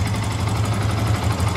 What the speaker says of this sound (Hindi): बाइक स्टार्ट करी